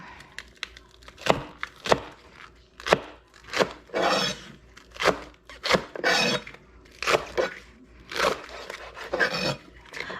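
A knife chops carrots into julienne strips on a board for mixed vegetable kimchi, sounding as a run of sharp, close taps in uneven bursts with short scraping pauses between them.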